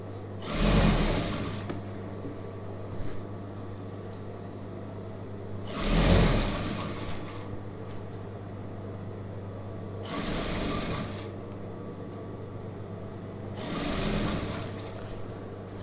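Sewing machine stitching a chudidhar sleeve, running in four short bursts of rapid stitching separated by quiet pauses, with a low motor hum in between, close and moderately loud.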